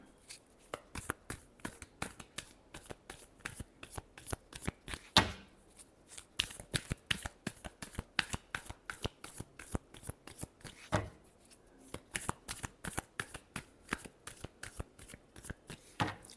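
Tarot cards being shuffled up close, a steady run of crisp, rapid paper snaps and riffles that carries on for the whole stretch with no voices.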